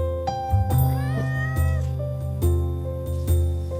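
A pet cat meows several times in a row, clear drawn-out tonal cries with short gaps, close and fairly loud with no talking over them.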